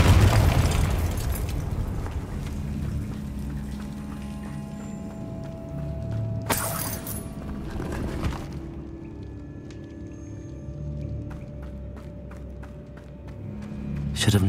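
Spell blasts from a Harry Potter video game, a loud broadband burst near the middle and another shortly after, set against steady game music and ambience.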